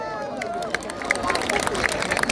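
A crowd at the Nandanik Nadia fair, in its first year, claps for the organisers, a steady patter of hands under a noisy hubbub with a voice over it.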